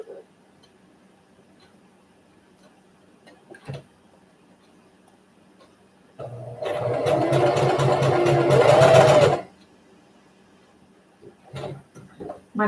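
A home sewing machine stitches a pajama seam from a Butterick 5506 pattern in one steady, loud whirring run of about three seconds, with quiet handling noises before and after.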